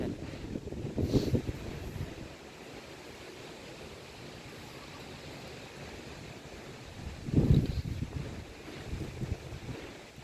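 Strong wind at a rural house construction site where workers are laying corrugated metal roofing, heard as a steady outdoor rush with two louder gusts buffeting the microphone.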